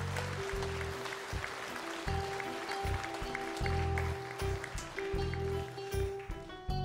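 At a Norwegian revue in Honningsvåg, an audience claps in a steady, dense patter that lasts throughout, with a faint tonal hum underneath.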